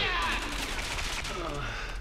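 Gunfire from the video game Resident Evil 6, a dense, loud barrage of overlapping shots that runs continuously, with a voice faintly mixed in underneath.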